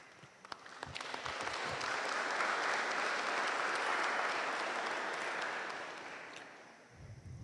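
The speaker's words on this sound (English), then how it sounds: "I believe you are clapping for the Lord." A congregation claps at a memorial service. The applause builds from a few scattered claps into a broad, sustained wash of sound, then fades out near the end, heard from a moderate distance.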